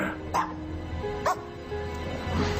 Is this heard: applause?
no